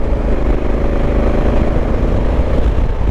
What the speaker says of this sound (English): that exhaust is just intoxicating